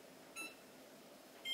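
A kitchen cooking timer gives two short, faint electronic beeps about a second apart against quiet room noise.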